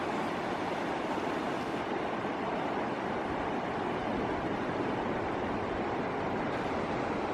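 Creek flowing in a narrowing wilderness drainage in the North Absaroka Wilderness in April: a steady, broad rushing wash with no breaks, heard from a distance with some wind noise.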